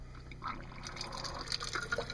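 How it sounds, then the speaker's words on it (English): Water running from an RV sink tap, a light splashing trickle with small drips and bubbly gurgles, fairly close and steady, with no voices. "And we've got water coming out of the sink."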